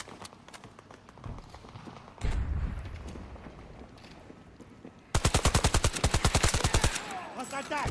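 Rapid automatic gunfire in a shooter video game: a loud, evenly spaced burst of close shots late on, after quieter scattered shots and game noise, with a voice talking.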